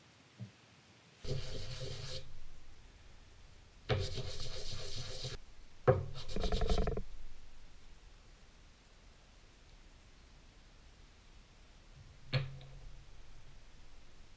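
Three separate bursts of rough, rasping sanding against wood, each lasting about a second, with quiet pauses and a faint tap near the end.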